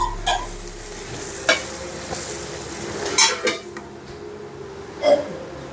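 Homemade sherva curry being stirred in a pot, with a spoon scraping and knocking against the metal in several distinct strokes over a soft sizzle, close and clear with no talking.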